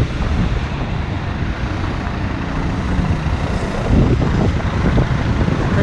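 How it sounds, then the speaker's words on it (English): Steady wind buffeting a microphone outdoors by a highway in Angeles City, a constant broadband rumble with traffic noise mixed in, growing a bit stronger near the end. "A little windy today."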